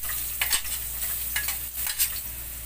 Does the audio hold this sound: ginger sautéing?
yes